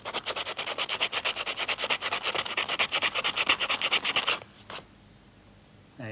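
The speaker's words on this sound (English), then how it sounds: "If I rub it with sandpaper" Sandpaper rubs back and forth across a sharp-edged piece of wood in quick, steady scratchy strokes for about four seconds, then stops with a last faint scrape.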